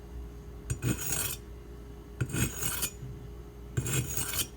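A Karaku AS gyuto 210mm knife edge is dragged across a wet 120 grit sharpening stone to dull it, giving three slow, gritty rasping strokes spaced evenly and heard up close.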